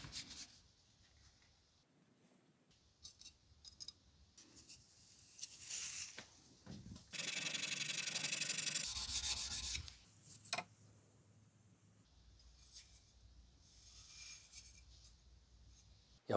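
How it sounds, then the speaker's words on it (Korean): A restored, once-rusty kitchen knife is drawn across a whetstone, giving soft intermittent rubbing strokes with one louder sustained rasping passage in the middle, heard close up. "연마는 여기 있는 인위 흑막 숫돌을 사용할 거고요"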